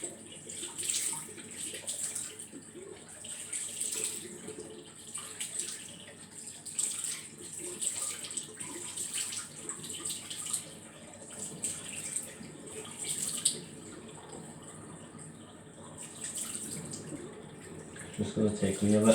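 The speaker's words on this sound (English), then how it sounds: "So first off, I'm going to dampen my hair again and then towel dry it." Water runs and splashes from a tap while hair is dampened again before towel drying, with uneven pulses of flow and splashing near the microphone across the whole stretch.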